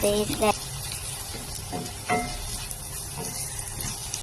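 Ginger, garlic, onion and tomato frying in a pan for a Kerala chickpea stir-fry, a continuous hissing sizzle with a few spoon knocks and stirring scrapes, loud and close.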